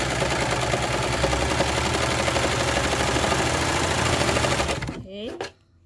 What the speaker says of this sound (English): I'm just going to sew this cuff up